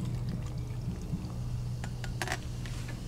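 Ginger beer is poured into a blueberry mint Moscow mule, a continuous fizzy liquid stream over a low hum with a few sharp clinks near the end, close and steady for a few seconds, no talking.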